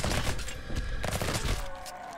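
Rapid gunfire from a weapon in the video game Project Stray, a dense burst of repeated shots that stays loud throughout, easing off slightly near the end.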